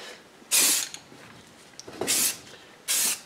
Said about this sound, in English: Then I'm going to spray it from a bit of a distance in fairly light coats